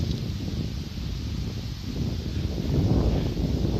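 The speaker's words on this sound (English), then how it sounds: "Wind's starting to pick up here, but it's more exposed over here than where I was before." Wind gusts across an exposed walking trail, a steady broadband rush with buffeting on the microphone that strengthens toward the end, with no voices.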